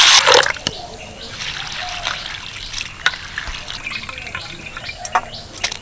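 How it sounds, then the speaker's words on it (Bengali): Large sago pearls being washed with water in a big bowl, with close, trickling and dripping splashes and intermittent clinks, beginning with a louder splash. "প্রথমে সাবুটাকে ভালো করে ধুয়ে নেব"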